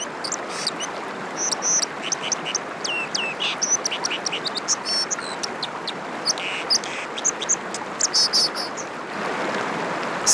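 A white-throated dipper gives sharp, rasping metallic calls in repeated short bursts, carrying over the loud, continuous rush of a mountain stream and cascades.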